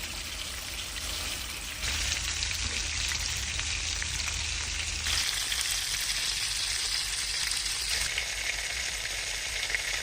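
Shrimp sear undisturbed in a frying pan, a continuous dense sizzle like hissing rain that swells and shifts in intensity, close and even throughout with no voices.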